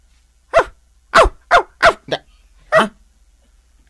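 A dog barks six times in a loud, clear sequence of sharp, separate barks with short gaps, close by and with no talking over it.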